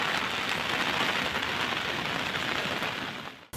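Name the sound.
heavy monsoon rain in Junagadh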